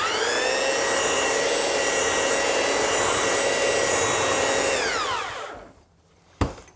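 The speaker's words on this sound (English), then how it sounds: "always start with your belt sander on your piece of wood, pull the trigger and start moving" A belt sander runs against a piece of wood with a steady, loud whine and grinding roar for about five seconds, then winds down and stops, with a short knock after it.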